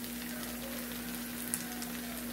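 Onions fry in a pan on a home stovetop, giving a steady, soft sizzle with a faint constant hum underneath.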